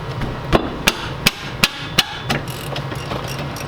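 Hammer striking a seized 18mm rear caliper bracket bolt on an F-body drift car, five or six sharp metallic blows in a steady rhythm, close and loud over a low background hum.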